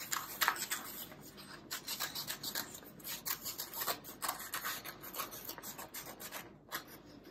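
Scissors snip and rub steadily through knitted sweater fabric while cutting out mitten pieces, giving a soft, repeated rasping scrape that is close and quiet, with no talking.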